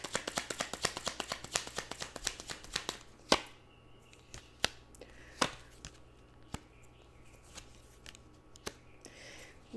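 Tarot cards shuffled in a rapid run of crisp riffling flicks, then a few sparse, separate card snaps as an extra card is pulled, close and quiet, no talking.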